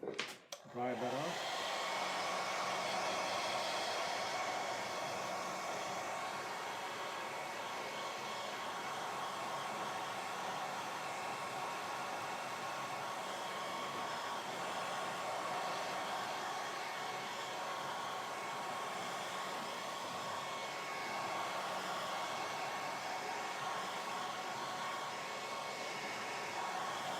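Hair dryer blowing on a watercolour painting during a live painting session, a steady, close, continuous whir that starts abruptly after a brief click and runs unbroken to the end.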